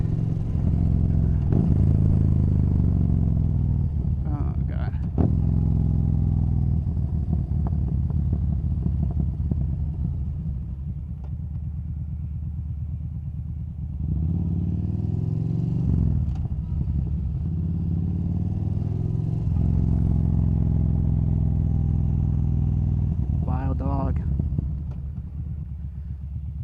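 A Yamaha Bolt motorcycle rumbles steadily at close range for the whole stretch, its engine note swelling as it accelerates at a smooth, unhurried pace, with two brief bursts of a voice cutting in over the noise.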